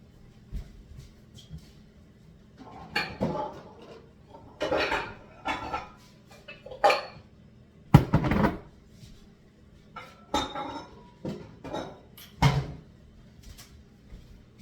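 A large mixing bowl is pulled out in a kitchen while making lemon cream puff dough, with dishes clattering and clinking in repeated bursts of knocks and rattles at close range, no talking.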